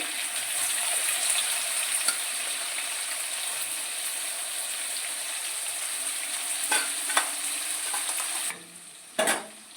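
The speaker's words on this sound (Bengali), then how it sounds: "পেঁয়াজগুলো একটু ভাজা ভাজা হোক" Steady crackling sizzle of onions frying in a pan, continuous and close, with a few brief clinks and scrapes near the end.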